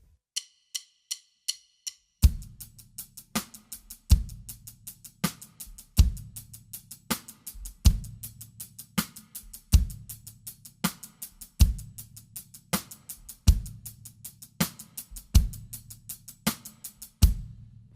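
A drum kit plays a verse groove in 5/4 after a few ticking count-in clicks: steady eighth-note hi-hat over recurring kick and snare hits in a lopsided five-beat cycle, clear and close, with no talking.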